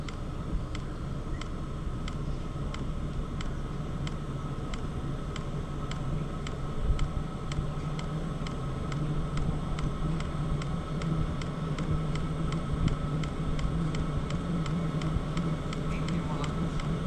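Fuel pump of a Vevor diesel heater running on test, a steady, evenly spaced train of small clicks that persists throughout beneath a continuous broadband whoosh and low hum.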